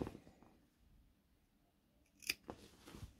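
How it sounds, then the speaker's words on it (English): Scissors snip into sewn fabric near the stitching and corners, with a few quick, crisp cuts close by against a quiet background. "I can just use my scissors to snip."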